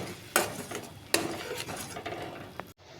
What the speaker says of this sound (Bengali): দিয়ে এটাকে মশলাটাকে আমি খুব ভালো করে কষিয়ে নেব